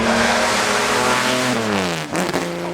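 A Jaguar C-Type race car roars past at the Goodwood Festival of Speed, its engine note climbing then dropping sharply as it passes close by, loud and alone with no talking.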